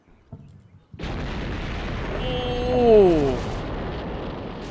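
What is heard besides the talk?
explosions from air support hitting a Shilka in a video game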